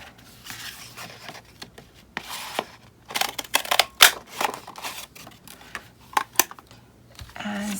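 Paper scraps being snipped into two pieces with scissors for junk journal stickers: a scattered series of close, crisp cuts and rustles with short pauses between them, no talking.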